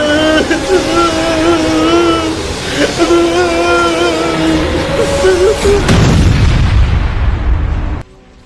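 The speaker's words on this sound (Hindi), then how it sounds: "ये गन फट गया।" Gun exploding in an animated Skibidi Toilet episode: tonal voices and effects give way to a loud, deep booming blast with rumbling debris that cuts off abruptly.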